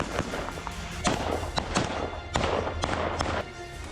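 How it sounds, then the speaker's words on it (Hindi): Heavy gunfire during a military encounter with a militant sounds as a string of sharp, irregular cracks and thuds, some close and some distant, over a low background rumble with no speech. "उसके बाद ताबड़तोड़ फायरिंग की गई।"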